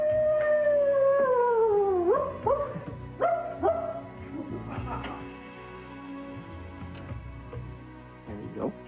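A person's voice imitates a wolf howling at the moon: one long, loud wail that slides downward and fades over about two seconds, followed by quieter scattered vocal sounds.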